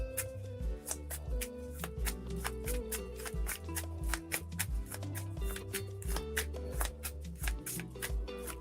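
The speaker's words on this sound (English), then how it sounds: "Giving you guys an extra longer shuffle." Tarot cards being shuffled at length, a steady run of crisp riffling snaps and soft papery slaps repeating close to the microphone, with no talking over it.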